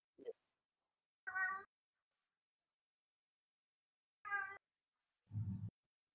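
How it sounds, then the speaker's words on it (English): A house cat meows a few separate times amid silence, short distinct calls spaced seconds apart, fairly faint, with a low grumbling sound near the end. "Oh, I can hear my cat."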